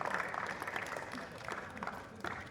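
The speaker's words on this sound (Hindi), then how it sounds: "एक बार फिर से जोरदार तालियां" Applause from an audience at a Hindi poetry recital at a college festival, a steady sustained clapping with a crowd murmur, fairly distant and even throughout.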